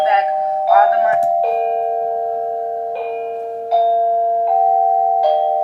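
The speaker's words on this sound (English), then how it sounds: "The mailman ringing my doorbell right at the most opportune time, huh?" A doorbell chimes several times in a row, clear steady electronic tones ringing out repeatedly over a quiet room, with a voice speaking briefly near the start.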